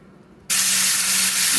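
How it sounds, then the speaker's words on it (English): A sudden loud hiss bursts in after a quiet moment and holds steady, like andouille sausage hitting a hot frying pan and sizzling close up. "Here I'm frying up, getting it browned up, my andouille sausage"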